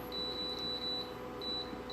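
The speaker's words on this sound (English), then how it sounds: "I'm going to set the timer now." Induction cooktop timer being set while a butternut squash soup cooks, giving short, thin electronic beeps in two quick groups over a steady kitchen hum.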